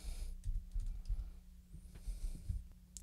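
Someone types on a computer keyboard in a quiet room, producing a short run of soft, irregular key clicks at close range.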